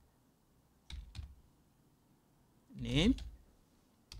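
A few short bursts of keystrokes on a computer keyboard as commands are typed on a Windows 10 machine, close and fairly quiet, with someone talking in between.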